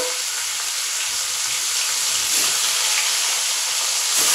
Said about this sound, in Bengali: মাছগুলোকে হালকা করে একটু ভেজে নেব।